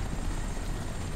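A helicopter flies in the video game Crysis, its rotor making a steady, close, droning whir that holds throughout with no one speaking.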